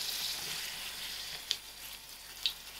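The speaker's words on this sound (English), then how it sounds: "8 minutes has passed us and the potatoes are fried out lightly" Potatoes frying in a pan for aloo gobi, a steady close hiss of sizzling oil with two brief sharper pops or utensil taps.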